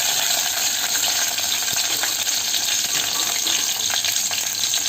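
Steady hissing sizzle of garlic frying in hot oil, continuous and fairly loud, with faint scattered clinks over the crackle.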